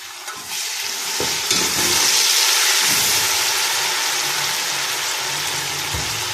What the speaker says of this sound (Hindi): इसको हम हल्का सा फेरेंगे